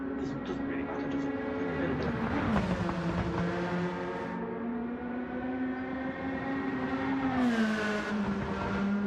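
Race cars in the Gran Turismo video game, GR3 GT500 series cars at Tokyo: a steady, whining engine drone holds through, rising in pitch around mid-clip, with another car's engine note climbing near the end.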